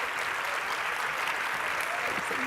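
Steady, dense applause from a conference audience at SXSW welcoming a speaker onto the stage, a continuous wash of clapping with no break across the whole stretch.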